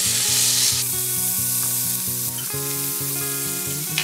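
Pork and onion fry in a hot pan, a continuous sizzle running steadily under loud melodic background music.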